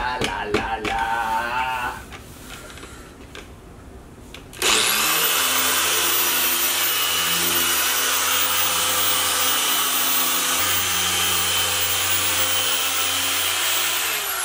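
A car polisher compounds the paint of a 2014 BMW M6, a steady loud whir with a low droning hum that starts abruptly after quieter handling sounds and runs on unbroken.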